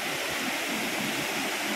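Strong rushing water pours down Bolinao Falls, a steady, loud, broadband roar that fills the whole stretch without a break, with no voices over it.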